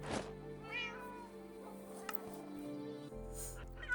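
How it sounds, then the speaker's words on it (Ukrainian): Cats meow in Minecraft, with a couple of soft, wavering mews rising over quiet background game sounds and faint ambience. "Та там от ті кішки за тобою."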